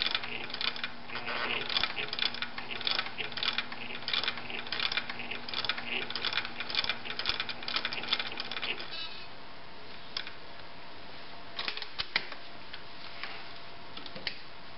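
A Bernina Record 730 sewing machine stitching carefully, giving a steady fast ticking mechanical clatter for about nine seconds. It then stops, leaving faint scattered clicks over quiet room tone.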